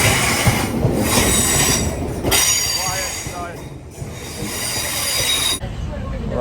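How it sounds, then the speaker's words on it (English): A train pulls into a station in Northern Ireland, its wheels squealing in loud, wavering metallic tones over a steady rumble of rolling cars, with faint station noise and brief voices in the background. "Ah yes, at last here comes our train."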